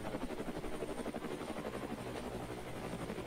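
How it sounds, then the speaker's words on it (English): A jet engine runs at full power in the Brick Rigs video game, a loud steady roar with a rapid pulsing beat throughout, no talk. "Jet engine's on full."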